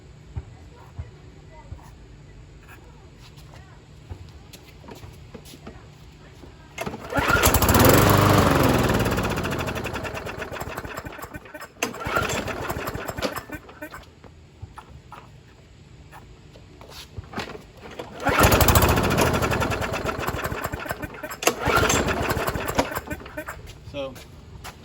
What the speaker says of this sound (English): So it only runs on prime for a couple seconds.